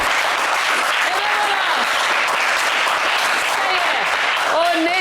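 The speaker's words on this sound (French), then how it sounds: "On va applaudir à nos 4 candidats sélectionnés" A TV game show studio audience applauds the selected candidates, a dense, steady wash of clapping with excited voices and shouts rising over it throughout.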